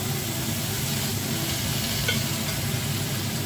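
Food caramelizing in a pan with a little olive oil gives a steady, close sizzle that stays even throughout, with no voices.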